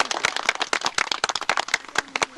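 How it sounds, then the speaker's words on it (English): Brief round of applause for a visitor at a 1994 Cub Scout award ceremony, a small group clapping fast and unevenly in a room for a couple of seconds. "Let's give him a round of applause."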